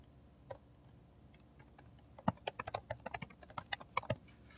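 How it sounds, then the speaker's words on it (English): Typing on a computer keyboard, a burst of quick uneven key clicks after a few scattered taps, close and fairly quiet with no talking. "I'll type that in."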